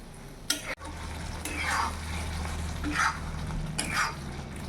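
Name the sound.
water boiling with posto paste on full gas flame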